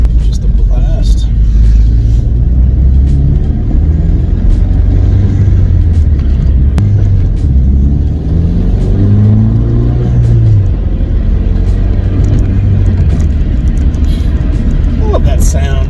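A car engine revving and pulling away while driving, a loud continuous low rumble that rises and falls in pitch, heard close from inside with some talk over it.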